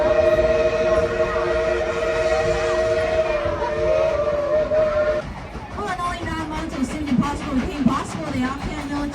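Steam locomotive engine number 70 sounds a long, steady whistle for about five seconds, then chugs and rumbles along with shorter whistle bends, fairly close, while a voice speaks over it.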